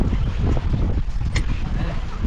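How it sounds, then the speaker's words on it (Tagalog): Wind buffets the microphone in loud, rumbling gusts, close and constant, with no talking. "Mahangin mga bay."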